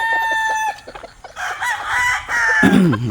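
A rooster crows in a small backyard chicken coop range area on a mountainside, a loud, drawn-out cock-a-doodle-doo repeated in rising calls with clucking between, close by.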